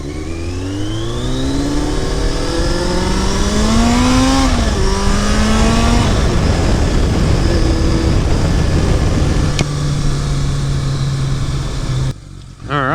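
A Yamaha XJ650 Turbo motorcycle engine running close by, loud and steady, revving up and down in smooth rising and falling sweeps before settling to a more even drone, then cutting off briefly near the end.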